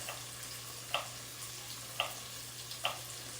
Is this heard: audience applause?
no